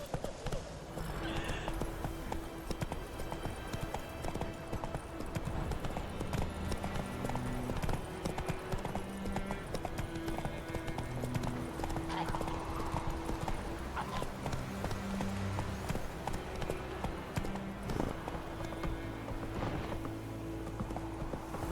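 A horse gallops in The Witcher 3, with quick, rhythmic hoofbeats continuing throughout under layered background tones.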